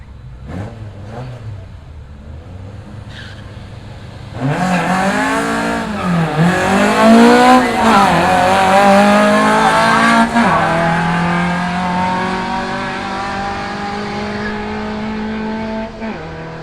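Street drag cars launch at Willowbank Raceway, a loud engine roar erupting a few seconds in and holding hard with rising and shifting revs through the run, with no talk.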